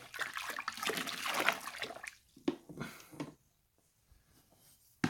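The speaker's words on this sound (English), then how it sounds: "Put a cup in at a time. Give it a stir." Grain is stirred into mash water for home brewing, producing close sloshing and swirling liquid sounds that fade into a few quieter splashes and drips.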